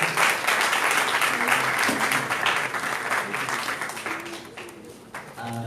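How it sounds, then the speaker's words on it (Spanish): A crowd applauds steadily for several seconds, the clapping gradually thinning and fading toward the end. "Un aplauso, por favor."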